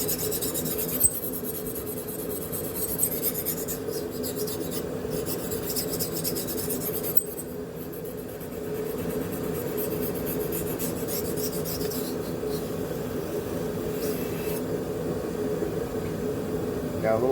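A fresh, never-sharpened AEB-L steel knife blade being sharpened on a belt, a continuous close abrasive rasping grind with slight pauses as the blade is repositioned, with a voice heard at times.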